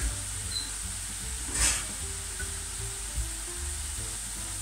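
Pâtisson squash and onions cooking covered in a pan, a steady soft sizzle with a brief louder hiss burst in the middle and low clinking underneath.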